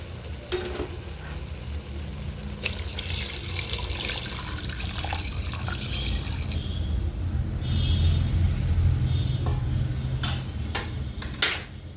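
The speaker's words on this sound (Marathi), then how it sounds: "आता आपण त्याच्यात गरम केलेलं पाणी टाकून घ्यायचं आहे" Hot water runs and splashes steadily into a metal pressure cooker holding chicken for several seconds, with faint clinks of utensils near the end.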